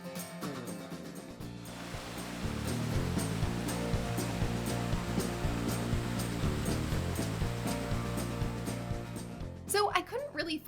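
Jacobs Falls in the Keweenaw pours over Portage Lake Volcanics rock with a steady, broad rushing roar that swells after the opening seconds. Soft background music runs underneath throughout.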